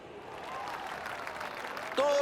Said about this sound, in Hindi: इन एथलीट्स को आज बजने वाली हर ताली की जरूरत है।